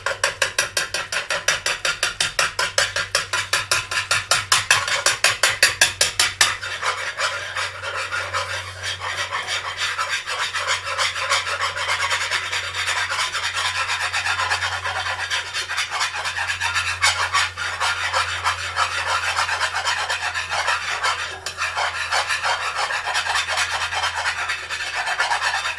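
Egg chowder being whisked in a bowl, a steady continuous scraping and rubbing rhythm, quick and close at first, then a denser, softer churning that carries on throughout without talk.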